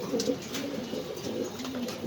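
Racing pigeons at a pigeon farm in Mirpur give soft, low repeated coos, close by and fairly steady over a faint background hiss.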